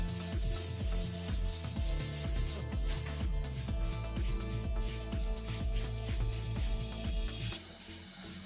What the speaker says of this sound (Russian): вот такой губочкой, то есть это грубо сотая наждачка